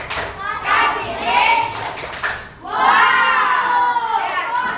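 Schoolchildren in an Indonesian classroom shout a loud, excited "wow" chant together as a class cheer for a group, two rising bursts of massed young voices close by.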